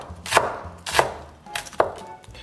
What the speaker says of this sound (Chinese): 从斜面给它切成丝儿